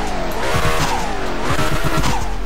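McLaren Senna GTR engine revving hard with rising and falling pitch and a squealing edge, loud and close, sustained throughout with no talk.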